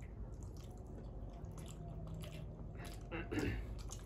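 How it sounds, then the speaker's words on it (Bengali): Someone eating rice mixed with mung dal, potato fritters and fried eggplant takes a big bite, with soft chewing and wet squishing close to the mic in a quiet room, plus a brief louder crunch near the end. "বড় সড়ো একটা বাইট নিলাম।"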